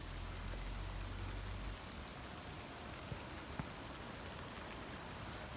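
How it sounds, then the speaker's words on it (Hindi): Steady monsoon rain falls in the Himachal mountains, a continuous soft hiss of drizzle with no voices, a low rumble fading out in the first seconds. "बारिश हो ही रही है झिमझिम।"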